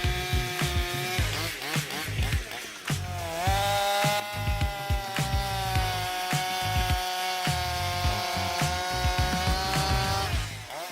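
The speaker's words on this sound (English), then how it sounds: "This chainsaw easily tackles precision jobs, making it the right choice for professional loggers." A 94cc chainsaw cuts wood, its loud close engine revving and droning continuously with pitch rising and dipping under load.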